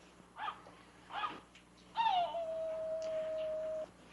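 In a TV western, Apaches imitate owl hoots: two short wavering hoots followed by a long, steady drawn-out hoot, heard fairly clearly over a quiet background. A human voice imitates the owl call.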